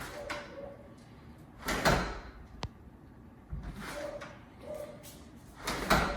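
A door is pushed shut repeatedly indoors during a dog training session, giving several dull thuds and sliding swishes spaced a couple of seconds apart, with one sharp knock in between.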